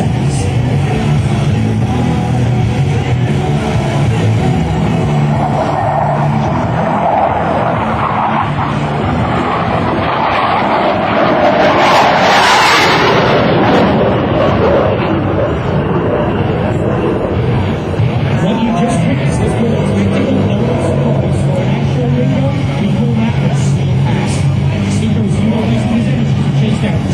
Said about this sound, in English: Demonstrate how much power is generated by the aircraft's general electric engine